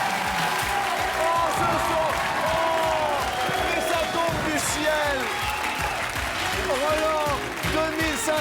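Studio audience applause on a French television game show, a steady broadband roar of clapping running throughout beneath excited talk from a presenter.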